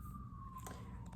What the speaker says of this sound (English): there's a siren going on outside my window